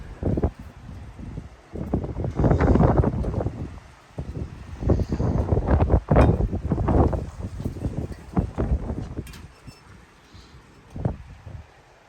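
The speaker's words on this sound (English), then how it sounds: "It's really windy." Strong gusty wind in an isolated outdoor spot, roaring and buffeting the microphone in uneven surges, loud and continuous, with no one talking.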